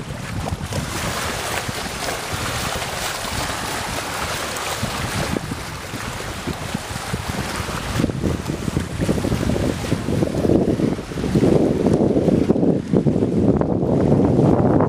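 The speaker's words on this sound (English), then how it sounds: "Love the sound of the waves." Waves wash against the shore by a pier on Lake Waccamaw, a steady broadband rush mixed with gusting wind buffeting the microphone, growing louder and rougher toward the end, with no voices.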